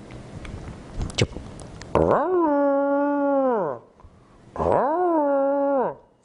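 After some background noise, a mimicry artist's voice gives two long, drawn-out howling calls imitating a dog, each lasting nearly two seconds.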